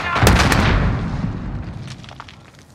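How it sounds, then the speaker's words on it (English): A single grenade bursts nearby in Call of Duty: Modern Warfare with a loud, sharp crack that rolls into a low rumble and fades away. Faint scattered gunfire pops continue behind it. "Grenade out!"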